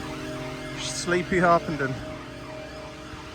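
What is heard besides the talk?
police car siren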